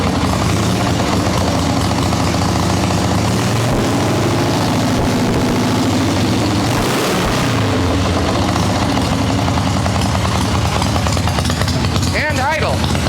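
A motorcycle engine idling during an engine swap on a GMC 3500 project, a loud, continuous rumbling drone that holds steady throughout, close up with a voice speaking over it.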